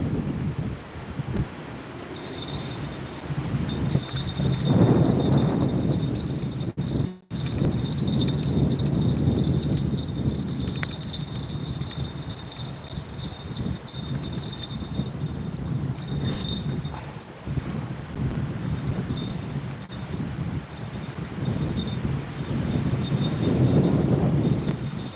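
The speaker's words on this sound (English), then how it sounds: "It's actually just getting windier and windier here." Wind gusting outdoors by the water while fishing, a continuous rushing roar buffeting the microphone, swelling and easing in strong gusts with one sharp dropout partway through.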